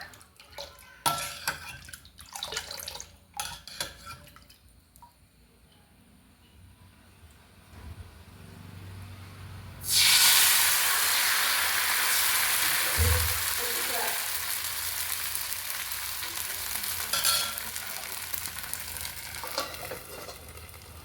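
Neer dosa batter hits a hot pan in a home kitchen and a loud, steady sizzle erupts, carrying on for a long stretch, after a quieter start of scattered clinks and stirring.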